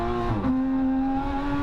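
A Porsche GT3 engine drones steadily on track at Streets of Willow, holding a sustained tone with one pitch shift as it changes gear partway through, loud and continuous with no speech.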